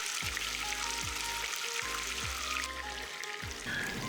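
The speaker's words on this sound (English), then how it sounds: "Fry the fish till it's brown" A fish fillet fries in a carbon steel wok with a steady, close sizzle and crackle, broken by a few low thumps as it is nudged or shifted in the pan.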